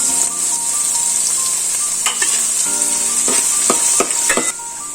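Beans and capsicum sizzle loudly in a hot pan for egg fried rice, a steady frying hiss broken by several sharp scraping stirs near the end.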